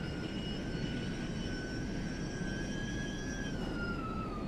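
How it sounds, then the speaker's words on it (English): A car's engine in the racing game Forza Motorsport, played on PC with a Moza R5 wheel, sounds as a steady high whine with rising and falling tonal pitch over a constant rumbling drone, continuous and fairly loud without talk. "that engine coil whine's really coming through."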